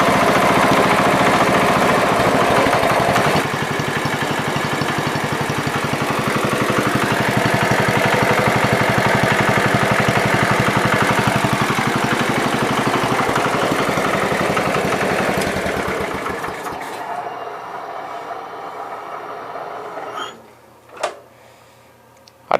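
A John Deere 110 lawn tractor engine, freshly repaired at the carburetor, runs loud and steady at a raised idle for about sixteen seconds, then cuts off into quiet with a couple of faint knocks.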